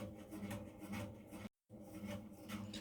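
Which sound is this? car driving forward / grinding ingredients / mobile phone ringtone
grinding ingredients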